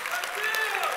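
An audience at a convention talk claps steadily for about a second, a dense, even patter of many hands with a faint voice carrying over it.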